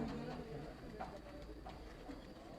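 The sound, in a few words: pigeons cooing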